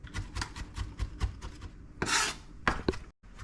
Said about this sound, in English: Just want to keep on chopping it a little bit more so it's finer.